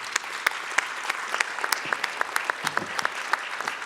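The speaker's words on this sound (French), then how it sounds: "Et on les applaudit" Audience applause at a French regional presentation of the Cap Atlantique territorial project, a steady sustained patter of many hands with scattered sharper claps standing out, moderately close and even throughout.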